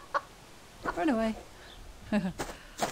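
A chicken in the survival video game Subsistence gives a couple of short, faint clucks, with someone speaking quietly over them.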